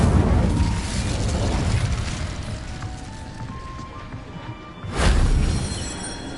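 Incendio fire spell cast in Hogwarts Legacy, a loud sustained roaring, rumbling burst that fades briefly and then swells again with a second whooshing blast near the end; voices are present.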